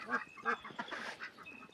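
Domestic ducks in a shed or pen give a few nasal honking quacks, faint and a little distant, in short bursts with no talk.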